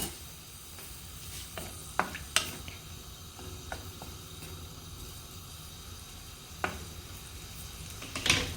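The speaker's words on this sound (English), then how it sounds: "we're just going to saute that until it starts to brown" Onions and fresh thyme saute quietly in a pan for a Mauritian cabbage dish, with a low steady sizzle and occasional sharp clicks and scrapes of a utensil against the pan.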